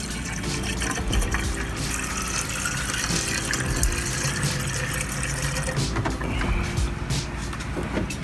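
Coolant is poured into a car radiator during a BMW 335i N54 engine swap, giving a continuous close gurgling, splashing liquid flow throughout.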